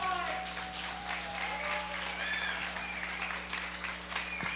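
Applause for panelists at a festival event on the Toronto rave scene, a steady wash of clapping from the audience lasting throughout, with faint voices mixed in underneath.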